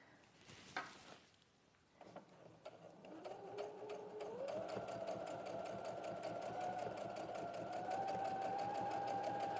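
A sewing machine top-stitches at close range, starting after a few handling clunks and then building into a steady fast needle clatter with a rising motor whine that holds to the end.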